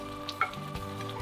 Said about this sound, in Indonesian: Ini kita tumis sampai dia matang